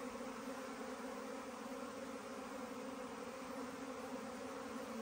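Honey bees buzz around a beehive after leaving their queenless hive, a continuous, even drone of many insects that holds steady throughout with no voices.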